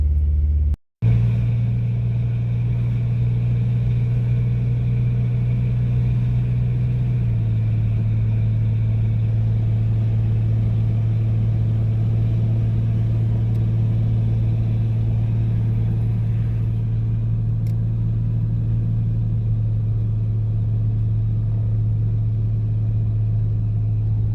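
A Jeep Cherokee drives steadily down a road after an alignment adjustment, a continuous low engine drone and road rumble from inside the cabin, with one brief thump near the start and a slight drop in pitch partway through.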